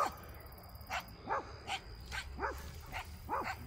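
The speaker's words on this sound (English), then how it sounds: "the dogs are losing their mind" Several dogs bark in short, repeated bursts, each bark rising and falling in pitch, mixed with higher yips. The barks come roughly every half second and are clear, fairly close and moderately loud.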